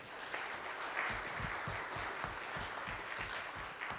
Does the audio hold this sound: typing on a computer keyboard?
no